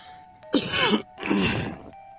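Two rough, throaty coughs close to the listener, each about half a second long, separated by a brief pause.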